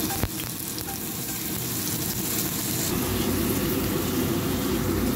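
Bone marrow and ginger fry in a little oil, giving a dense, continuous sizzle that grows slightly louder and fuller partway through, with a sharp clink near the start.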